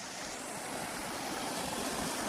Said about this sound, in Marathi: आवाज बघ पाण्याचा आवाज